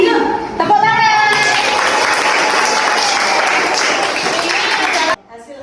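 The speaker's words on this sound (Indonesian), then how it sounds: "Tepuk tangan." Dense applause and clapping from a classroom of children fills about five seconds at a steady, loud level, then cuts off abruptly, with a few young voices mixed in at the start.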